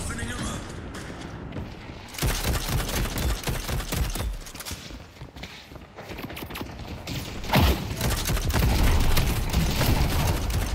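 Gunfire in the Valve hero shooter Deadlock, with dense bursts of rapid shots and booming impacts during a fight, loud and continuous from about two seconds on, with game voices mixed in.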